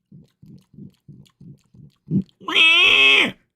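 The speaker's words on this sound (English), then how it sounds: "it's one of those swiny, slimy, hiney pigs" A pig grunts in a quick series of short, evenly spaced oinks, then lets out one loud, drawn-out squeal at close range, alone with no talk.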